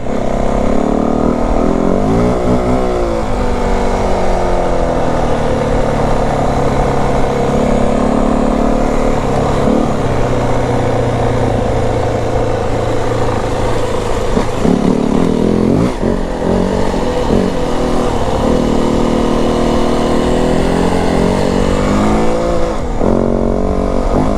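A 2025 Yamaha WR450F dirt bike with an open, uncorked setup roars steadily while being ridden off-road, its engine revving up and down close to the microphone for the whole stretch, with no talking.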